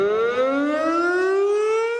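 Civil defense siren sounding during a fire department noon test, a loud rising wail climbing steadily in pitch, sustained and unbroken.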